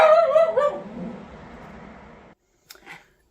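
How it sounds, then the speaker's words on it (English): A pet dog barks and yips loudly up close at the neighbouring dog outside, a burst of whimpering barks fading into a quiet pause before one more brief yelp. "my dog decided to bark at the dog next door outside"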